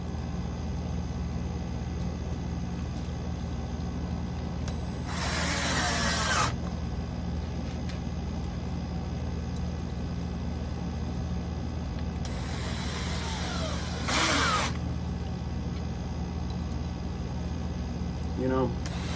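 Short bursts of a power drill working inside a Scamp camper while bunk beds are being built, two main bursts of a few seconds each over a steady background hum, fairly close.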